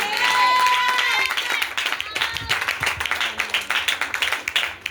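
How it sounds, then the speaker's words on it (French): A church congregation applauds and cheers loudly during a French-language revival service, dense clapping and voices swelling throughout, with a sustained tone and voices at the start. "acclamons puissamment"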